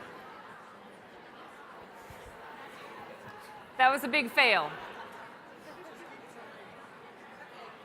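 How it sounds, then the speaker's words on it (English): A large room at a women's day workshop hums with steady, low crowd chatter, many overlapping voices at a distance, broken midway by a brief louder burst of nearby talking and laughter. "It's an amazing buzz of conversation"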